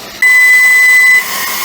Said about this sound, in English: So that's our timer.